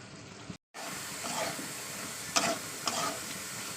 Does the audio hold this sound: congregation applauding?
no